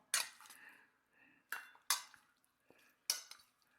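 Chicken wings seasoned with salt and black pepper are tossed in a bowl, giving a handful of sharp clinks and scrapes spaced about a second apart, fairly quiet, with short rustling between them.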